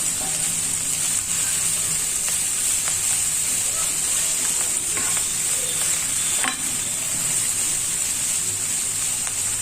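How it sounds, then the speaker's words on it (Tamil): Crushed ginger and garlic sauté in a pan for mutton keema rice, giving a continuous loud sizzle with scraping stirring sounds throughout. "ஒரு 2 இன்ச்சு அளவுக்கான இஞ்சியும், ஒரு பூண்டையும் அப்படி 1 2 தட்டி வச்சுருக்கேன். அதையும் போட்டு வதக்கிடலாம்."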